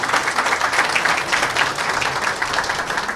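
Audience applause at a song launch event for a singer's new song, a dense, steady roar of many hands clapping throughout, loud and sustained with no talk.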